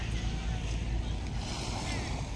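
Sea waves wash steadily along the shore at the seaside boulevard in Bauan, Batangas. The surf makes a constant broadband rush mixed with wind buffeting the microphone, with no clear voices.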